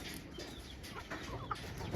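A chicken recovering from a fever-like illness and moving abnormally clucks faintly a few times against a quiet, noisy background.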